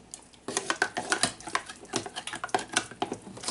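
A utensil scrapes and clinks rhythmically around a bowl while stirring sour cream into a little beef stroganoff sauce, a brisk, close, repeated tapping and scraping with no talk over it.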